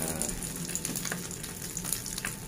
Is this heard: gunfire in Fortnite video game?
no